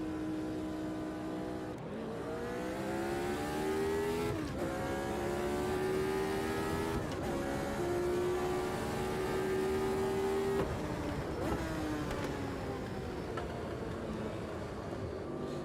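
A race car engine in the racing game Automobilista 2 revs hard and climbs in pitch through several H-pattern gear shifts, each marked by a brief drop before it winds up again, loud and steady.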